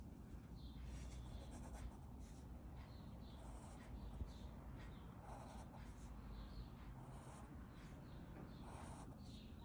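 Pencil strokes drawing horizontal lines on paper for a third-grade pop art landscape, a soft, steady scratching that stays faint against a low background hum.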